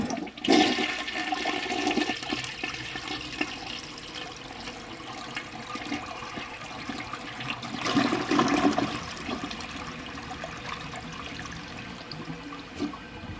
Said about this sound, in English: But it is installed in the house, so I'll give it a flush.